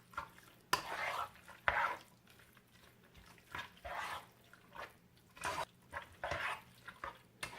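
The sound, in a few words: stirring chicken alfredo with chickpea pasta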